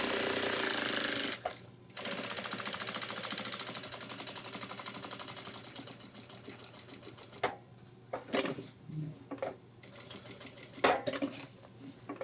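Sewing machine stitching a second pass along the seam of a homemade ultralight hiking backpack, a fast, close mechanical chatter in long runs broken by short pauses and stop-start bursts near the end.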